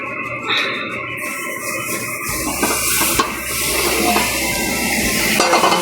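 Frying pan clattering among dishes at a kitchen sink, with metallic clinks and clanks over running tap water and hiss, close and loud.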